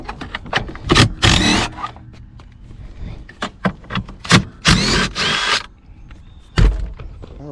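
Power tool bursts loosening four 1/2-inch (13mm) seat bolts in a 1984-1992 Chevy C4 Corvette interior, several short whirring runs spread across the clip with quiet gaps between them.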